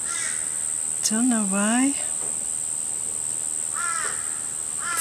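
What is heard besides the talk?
crows cawing in a garden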